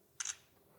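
Oppo Reno 8 phone camera fires a single quick, crisp shutter click while taking a close-up portrait selfie, heard alone and fairly faint.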